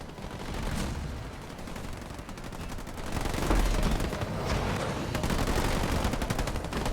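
Gunfire from units in the real-time strategy game Halo Wars 2, dense rapid bursts and cracks that build and continue throughout at moderate loudness, with no talk.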